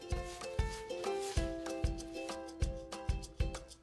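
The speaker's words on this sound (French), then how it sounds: "Commencez à la brosse par les angles, en partant de l'angle vers le mur" Brush working metallic industrial plaster coating into wall corners, a close, quiet series of rhythmic rubbing strokes about twice a second, each with a soft thud, alone without talk.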